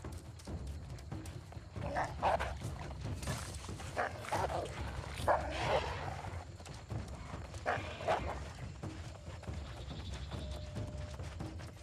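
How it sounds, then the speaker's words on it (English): A hostile dog in the video game New World, giving a few short barks and yips amid running footsteps and game background sounds, with no talking. "I'm just gonna try to outrun the dog."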